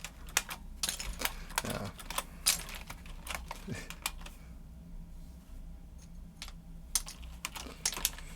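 Typing on a keyboard fitted with a mix of double-shot and single-shot keycaps, some Swiss made: close, crisp keystrokes in irregular bursts with brief pauses, and a short spoken word partway through.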